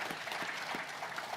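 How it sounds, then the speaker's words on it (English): Applause for a panel at a Co-operative Party annual conference, a steady even patter of many hands clapping, moderately quiet and continuous throughout with no voices. "We'll just give you applause for our panel."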